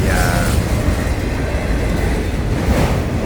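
A Florida East Coast Railway freight train hauling auto racks rolls past close by, a loud, sustained rumble with wheel noise and a brief high squeal near the start.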